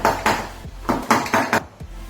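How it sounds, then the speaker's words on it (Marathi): A metal vessel holding dhokla batter is tapped and knocked repeatedly against a surface, giving a quick run of close, fairly loud clattering taps with brief gaps between them. "आता आपण हे भांड जरा हलवून घेऊया काही काही गुठळी नाहीये आणि हवा पण राहणार नाही असं बघूया असं आपण टॅपिंग करून घेऊया"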